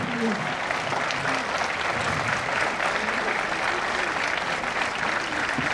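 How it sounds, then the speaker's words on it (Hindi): Audience standing to welcome a chief guest at a traffic awareness event with loud applause, a continuous thick roar of many hands clapping throughout, with faint voices underneath. "खड़े होकर के स्वागत करिए जोरदार तालियों से"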